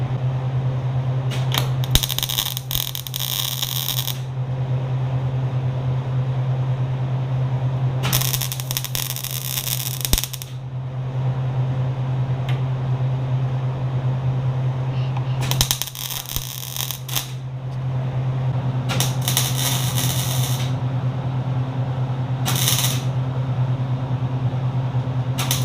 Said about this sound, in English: Now I'm ready to go ahead and try and weld it up